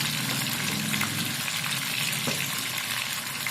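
Chopped cauliflower fries in a pan while it is stirred. A steady, dense sizzle runs throughout with soft scraping, close and continuous, and no one speaks.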